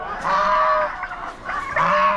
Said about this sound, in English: I didn't want to get rid of the white Chinese geese